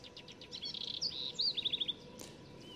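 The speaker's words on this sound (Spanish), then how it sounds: "El sonido de muchas aves, muchos pájaros." Birds sing beside the channel in Tierra del Fuego, clear high chirps and quick trilled phrases from a nearby songbird over a soft outdoor background, with a faint sharp tap near the end.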